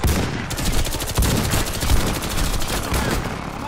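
Rapid automatic gunfire pours onto a convoy vehicle in the Warface shooter, dense overlapping bursts close and loud throughout.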